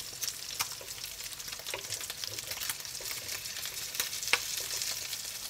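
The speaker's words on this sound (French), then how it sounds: "je mets les boudins blancs à faire dorer sur chaque face" Boudin blanc sausages brown in a frying pan, giving a soft continuous sizzle with occasional crackles and small pops, fairly quiet and close, with no one talking.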